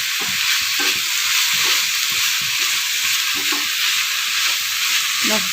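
Drumstick leaves sauté in a hot pan with a steady, loud, close sizzle and frying hiss that carries on without a break, while soft stirring scrapes surface now and then.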